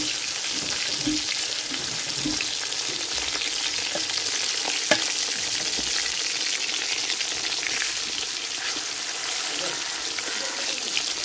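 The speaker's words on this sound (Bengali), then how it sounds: "তেল গরম হয়ে গেছে, এখন হলুদ লবণ মাখানো মাছ দিয়ে দিব।" Fish marinated in turmeric and salt fries in hot oil in a pan, giving a steady, dense sizzle that runs unbroken throughout, with a faint clink partway through.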